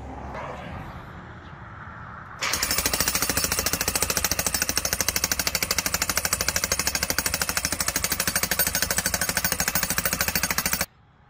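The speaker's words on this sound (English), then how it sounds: "This jackhammer's 70 pounds" A 70-pound jackhammer breaking up concrete steps, starting abruptly after a quieter lead-in and hammering in a loud, fast, steady rhythm for about eight seconds before stopping suddenly.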